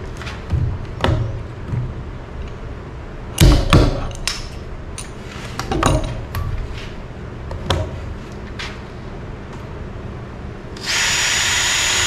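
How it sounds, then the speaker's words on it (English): A power drill bores a pilot hole into monkey pod hardwood, with bursts of whirring and bit contact, a few thumps and taps along the way, then a steady loud whine near the end. "I'm just gonna pre-drill, let me mark it real quick."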